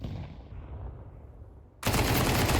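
MP9 gunfire erupts in an esports video game match: a brief lull, then a sudden dense burst of rapid automatic shots, loud and close, continuing to the end without speech.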